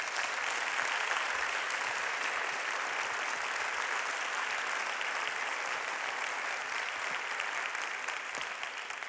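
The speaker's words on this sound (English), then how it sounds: "Please join me in a round of applause" Sustained applause from a large audience at a university address, a broad, even roar of many hands clapping for about nine seconds, tapering slightly near the end.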